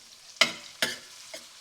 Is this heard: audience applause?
no